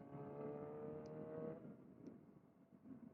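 Kawasaki ZX4R motorcycle engine held high in the revs, a sustained whining tone that drops away after about a second and a half, leaving a quieter rumble.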